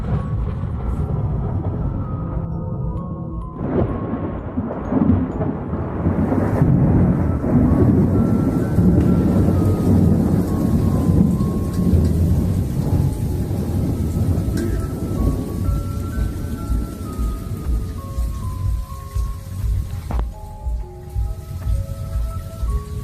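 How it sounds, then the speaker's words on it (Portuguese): A thunderstorm rolls through with heavy rain, deep thunder rumbling and swelling in long waves beneath a constant patter of rain, the thunder loudest early on and fading toward the end. "Não, são só trovões e raios sinistros."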